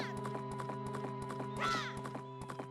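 Horse hooves clip-clopping at a steady gallop in Zelda: Majora's Mask, an even run of hoofbeats over a constant game music drone, with a brief neigh-like whinny partway through.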